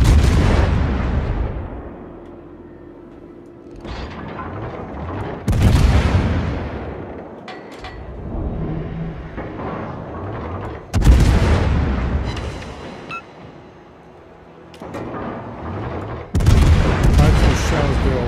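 Warship main guns fire in World of Warships, several heavy booming salvos spaced a few seconds apart, each followed by a long rumbling decay, loud and close.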